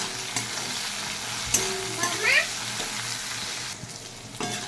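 Okra frying in a pan with turmeric added, a steady sizzle with stirring scrapes and a brief high squeak midway, and no talk.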